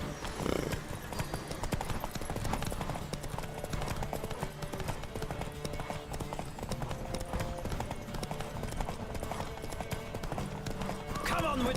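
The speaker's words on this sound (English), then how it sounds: "Don't spare the horse!" Galloping horse in a Witcher video game horse race, rapid continuous hoofbeats close and loud under game music, with voices calling out over the running.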